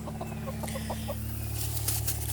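Chickens clucking in short soft bursts near a backyard flock, over a steady low hum, with some brief clatter toward the end.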